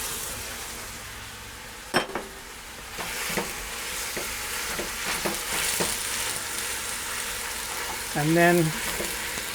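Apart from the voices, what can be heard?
ground lamb and pork browning in a pot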